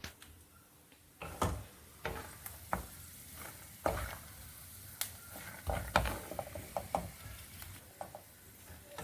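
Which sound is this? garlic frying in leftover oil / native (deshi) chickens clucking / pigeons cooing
garlic frying in leftover oil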